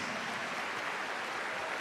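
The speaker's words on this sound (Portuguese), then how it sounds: "pode aplaudir depois dessa mulher" Church congregation clapping, a dense, steady wash of applause from a crowd heard throughout at moderate level.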